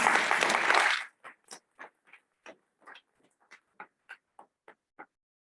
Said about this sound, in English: let's give a little round of applause to Colette Cox